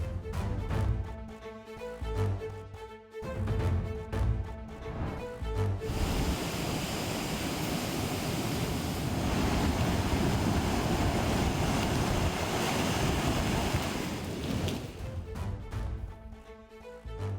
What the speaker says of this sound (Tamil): கடல் கடும் சீற்றத்துடன் காணப்படுகிறது.